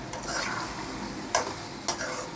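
Half-fried okra is stirred into a tomato masala, giving a steady sizzle with a spoon scraping the pan and two distinct clinks of metal striking it.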